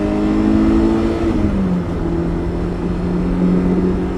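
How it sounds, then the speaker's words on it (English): A BMW E30 M3 engine blips and dips in pitch during a rev-match downshift, then settles into a steady, loud, close drone with no talk. "Rev match downshift easy to do."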